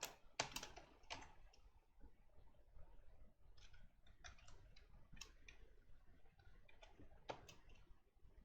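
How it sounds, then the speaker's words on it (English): Code is typed on a computer keyboard with irregular bursts of close, crisp key clicks and brief pauses between flurries, quiet and without talk. "I'm just doing like a stream of consciousness typing on code."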